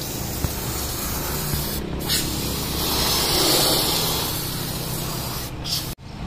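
A steady, close hiss of steam spray blasts degreaser over a Toyota Camry V6 engine bay to loosen dirt, grease and oil, continuous for several seconds before cutting off abruptly.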